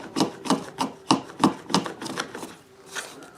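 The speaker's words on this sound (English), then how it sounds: "try to make a gentle scoop and keep shaving until I get down to 1/8 of an inch" Hand tool shaving brace wood on the back of a dreadnought acoustic guitar being built, a series of about nine close rhythmic rasping strokes, evenly spaced and fading slightly toward the end, with no voices.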